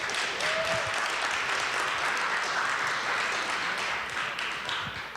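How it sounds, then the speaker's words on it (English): Audience at a Paterson talent show applauding an honored guest, thick continuous clapping at steady loudness from start to finish with no voices over it. "Let's give him a round of applause."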